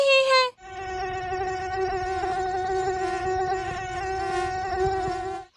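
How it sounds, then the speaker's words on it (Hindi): Mosquitoes fly in and land on a cow, making a loud, steady, high whining buzz that holds for several seconds close to the ear, with a brief tone just before it starts. "कुछ मच्छर उड़ते हुए आकर कपिला गाय पर बैठ जाते हैं।"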